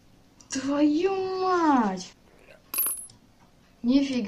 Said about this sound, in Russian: Это что, монетки?